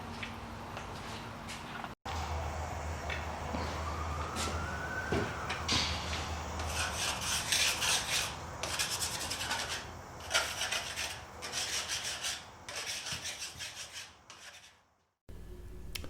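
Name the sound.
sanding wooden table top with 80 and 120 grit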